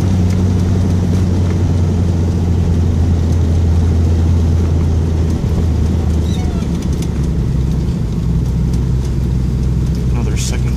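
A 1970 Datsun 240Z with a turbocharged L28ET inline-six pulling in second gear, a loud, close, droning low engine note held steadily for about ten seconds with cabin rumble and a few faint clicks.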